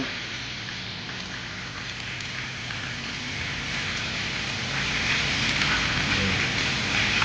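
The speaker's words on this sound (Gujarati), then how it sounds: "સખત ચાલુ જ છે વરસાદ મિત્રો." Heavy rain pours down on the seaside at Chorwad, making a dense, steady roar of water that holds even and loud throughout and grows slightly stronger toward the end, with no voices.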